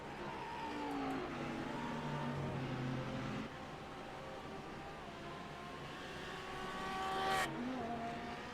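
A GT3 race car powering out of the hairpin at Long Beach, engine climbing through the gears with a rising, strained whine, a sharp shift near the end, all heard at a moderate distance.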